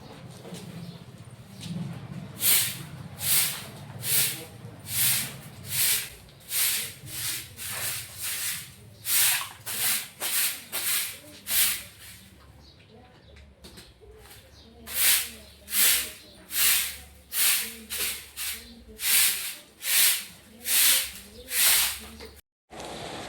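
A pile of dishes being washed, with rhythmic scrubbing and rinsing strokes repeating steadily at close range, pausing briefly midway before resuming; there is no clear talk.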